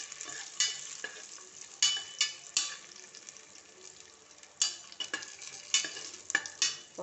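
Raisins and cashews frying in ghee for ghee rice, a steady close sizzle broken by several sharp scraping stirs of a spoon against the pan, with no voices.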